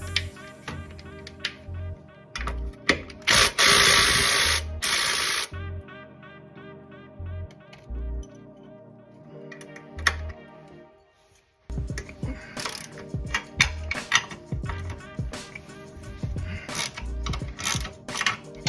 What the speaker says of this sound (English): This little impact is basically just a electric screwdriver.